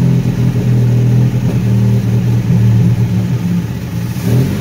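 A 1975 Chevy LUV pickup engine running rough and struggling to idle, a loud close low rumble with an uneven, wavering throb and slight surges, no voices.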